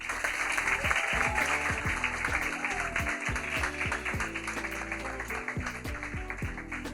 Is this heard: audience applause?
yes